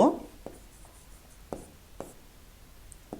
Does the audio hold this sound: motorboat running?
no